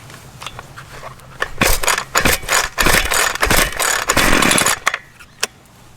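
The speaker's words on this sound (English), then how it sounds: "pull the starter rope until the engine attempts to start" A Ryobi gas weed eater on full choke, with the starter rope pulled several times as the two-stroke engine sputters and briefly catches in loud, ragged bursts before dying, separated by short pauses and small rattles.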